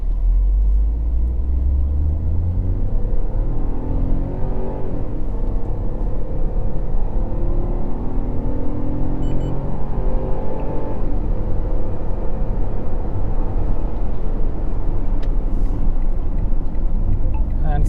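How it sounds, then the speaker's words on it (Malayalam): A 2026 Citroën C3 Aircross X launches under full acceleration, its engine note rising loudly and steadily through the gears with a continuous road rumble heard from inside the cabin. "ആൻഡ് ഇനി നമുക്ക് ഇവിടുന്ന് ജസ്റ്റ് ഒന്ന് ലോഞ്ച് ചെയ്ത് നോക്കാം യൂ ടേൺ എടുത്തിട്ട്."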